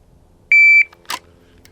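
A shooting timer gives one short, loud electronic buzzer tone, followed a moment later by a single sharp crack, on a Beretta 92XI SAO Tactical pistol range.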